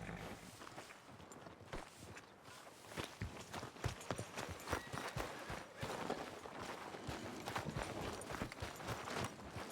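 Horse hooves clip-clop steadily in Red Dead Redemption 2, a close, rhythmic walking gait that runs the whole stretch over faint background ambience.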